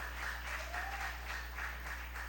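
A JMCIM church congregation applauding God during a sermon. Steady rhythmic clapping pulses over a constant low hum, moderately distant, with no talking.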